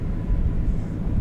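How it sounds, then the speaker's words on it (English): An American Airlines Airbus A321 arriving from Cancun at DFW Airport gives off a low, steady rumble, a broad and fairly loud engine drone with no voices over it. "American 2652 from Cancun is what you just saw there, an Airbus A321"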